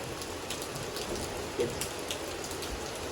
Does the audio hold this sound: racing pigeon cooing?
no